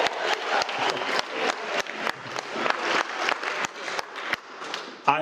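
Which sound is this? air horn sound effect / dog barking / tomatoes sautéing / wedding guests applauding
wedding guests applauding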